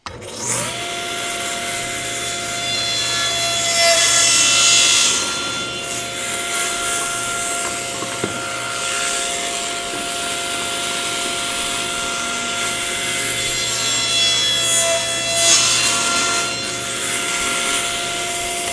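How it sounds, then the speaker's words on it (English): Table saw fitted with a sled and fence cutting through wood, a loud, steady motor whine with the blade's rasping bite swelling and easing as the piece is fed through, close by with no talking. "Whenever you're making a cut like this with your table saw sled and a fence here"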